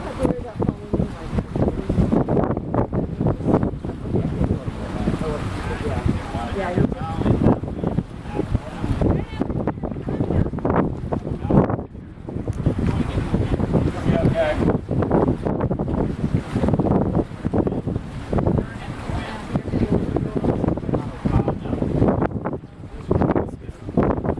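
Wind gusts across a boat show harbor, a steady rough rush with buffeting microphone noise and water sounds, loud and continuous while people talk nearby.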